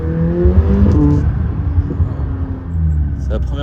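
A McLaren supercar engine rumbles loud and close from the cabin at night, with uneven rev swells and a few crackling pops, under someone talking.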